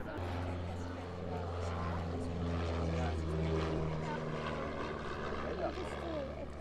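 A Nord Aviation twin-tail propeller trainer drones overhead at an air show, a steady low engine tone rising and falling as it passes, while someone commentates over it.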